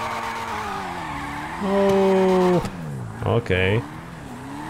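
Car drifting in the video game GTA 5, with a revving engine and loud tire squeal sliding up and down in pitch, in several long squeals and short bursts. Someone talks briefly over it.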